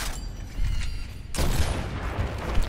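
Gears of War gunfire fires in heavy repeated bursts, loud and close, with a sharp surge of shots midway and no talking.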